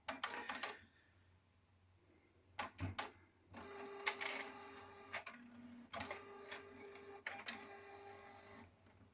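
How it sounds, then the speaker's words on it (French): A home printer runs off copies of scrapbooking pages and die cuts, with bursts of mechanical whirring, clicking and feed clatter separated by quiet pauses, close and fairly faint. "Et voilà, ça imprime."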